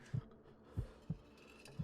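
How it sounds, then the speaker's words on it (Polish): A heartbeat sound effect in the Minecraft game, a Jason versus Freddy Krueger duel, with soft low thumps in an irregular pulse, quiet and alone. "Oddycha, serce mu bije, to bicie serca normalnie."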